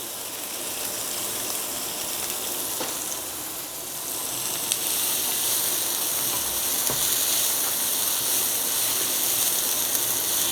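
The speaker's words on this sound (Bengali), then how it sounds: "তেলের মধ্যে আমি এটা ভেজে নিচ্ছি।" Onions and chilies coated in spice paste fry in hot oil, giving a continuous loud sizzle and crackle close by that swells slightly partway through.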